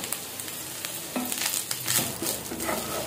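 Cooked rice and salt get stirred into a pan of garlic fried in ghee, a steady sizzle with scraping stirs and soft clatter, close up and with no talking.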